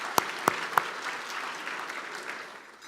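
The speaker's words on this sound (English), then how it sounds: "applause." Audience applause at a chamber of commerce annual awards dinner: three sharp, separate claps open the clip, then a steady wash of clapping from the room that slowly fades.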